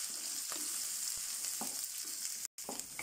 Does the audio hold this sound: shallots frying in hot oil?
yes